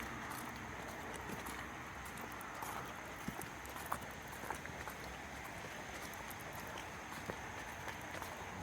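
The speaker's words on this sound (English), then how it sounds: "I wish it would stop raining." Steady rain falls on a Civil War battlefield trail at Middle Creek near Prestonsburg, Kentucky, a dense constant hiss with scattered sharp drips and taps throughout.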